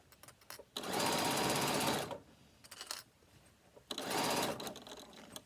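A sewing machine stitches around the corner of a fabric bag on a shortened stitch length, whirring in two sustained, steady bursts with quieter handling pauses between them, close and clear.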